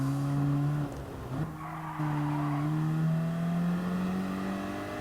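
Race car braking hard on the Nürburgring circuit in Gran Turismo Sport, a loud continuous engine drone with steady tones that dip as the car slows, then rise and climb again, with a brief tire squeal and no talking.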